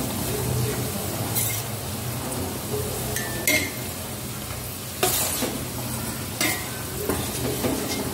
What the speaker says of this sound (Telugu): చూడండి ఆకులన్నీ బాగా ఫ్రై అయిపోయి కదా